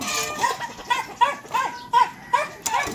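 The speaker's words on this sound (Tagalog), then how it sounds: "Ayan, pakainin natin yung mga aso." Several dogs bark in short, repeated yaps at a household feeding time, roughly twice a second, fairly close and clear over a faint background with no talk.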